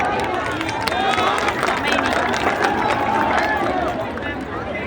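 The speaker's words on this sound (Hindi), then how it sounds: "एक बार जोरदार तालियां दोस्तों" A stadium crowd at a cultural fair in Noida claps and cheers for the state chief minister. The applause is continuous and dense, with a murmur of voices beneath it, easing slightly toward the end.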